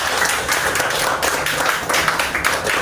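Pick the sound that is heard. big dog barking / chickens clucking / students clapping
students clapping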